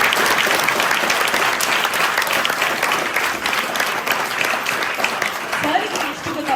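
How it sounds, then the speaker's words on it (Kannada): A crowd at a school talent award ceremony claps loudly, a thick, continuous wash of hand claps that holds steady for several seconds without a break. "ಜೋರಾಗಿ ಚಪ್ಪಾಳೆ ತಟ್ಟಿ"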